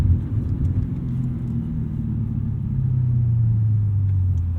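Tuned 2007 Audi RS4 with a flash tune and Milltek catback exhaust, heard on a test drive as a steady low engine rumble that swells slightly in pitch and loudness toward the end.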